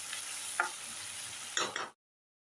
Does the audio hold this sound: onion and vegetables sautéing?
yes